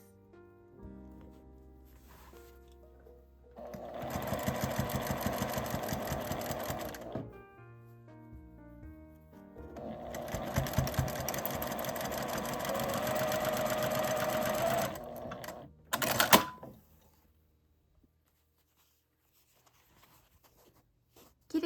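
A sewing machine stitches along a panel seam in fabric held with clips, running in two sustained bursts of several seconds each, then a short final burst before quiet.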